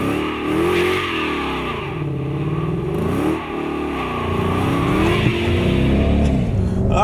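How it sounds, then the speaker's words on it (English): A 2011 Mustang GT with aftermarket exhaust does a smoky burnout, the V8 revving hard and rising and falling in loud waves as the tires spin, close and continuous for several seconds. "what better way to start off our Power Pack with the 2011 GT with a nice big smoky burnout"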